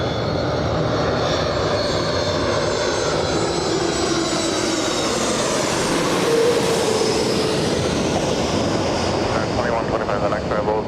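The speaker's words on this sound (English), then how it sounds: "Our next arrival we have is another 737." A Boeing 737 MAX 8 arriving at Los Angeles International Airport, its jet engines giving a loud, steady broadband roar that swells slightly midway, with a faint voice at times under the noise.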